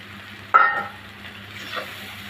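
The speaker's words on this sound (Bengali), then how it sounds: "ডিমের সাথে 3 মিনিট আমি এভাবে ভেজে নিব।" Egg and pointed gourd frying together in a pan, a sudden scrape of stirring followed by a soft continuous sizzle and another light stir near the end.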